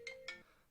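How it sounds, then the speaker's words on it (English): A phone ringtone giving two short, quiet electronic tones in quick succession over a soft background. "sorry about the phone call"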